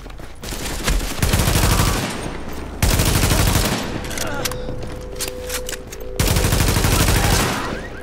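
Repeated bursts of G36 Enhanced rifle fire in Tom Clancy's The Division on Xbox One, loud rapid volleys in several strings with short pauses between, someone talking over parts of it.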